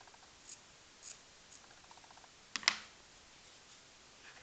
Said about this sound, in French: Je vais couper le petit bout là.